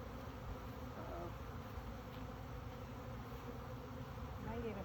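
Honeybees buzzing around a hive that has just split, a dense continuous hum filling the whole stretch at low level, steady and unbroken with no voices over it.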